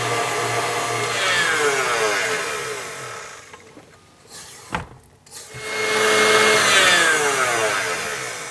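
An electric mixer creams coconut oil, lard and sugar for cookie dough, a loud close whirring drone whose pitch sweeps up and down, dipping briefly midway before running at full speed again.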